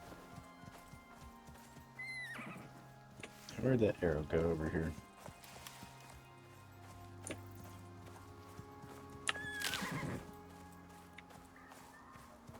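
Horse in the video game Icarus, with a clear neigh and whinny plus clopping hooves in short bursts, close and fairly loud, while a person talks over the scene.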